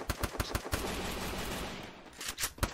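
Gunfire in the battle-royale game Free Fire: rapid bursts of automatic shots at the start, a sustained noisy stretch, then more loud sharp shots near the end, with no talk over them.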